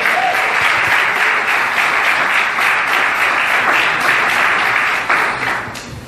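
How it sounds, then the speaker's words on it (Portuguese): A church congregation applauds during a Portuguese-language sermon, a dense, sustained burst of clapping that fills the space for about five seconds before tapering off at the end. "dê um aplauso a Jesus"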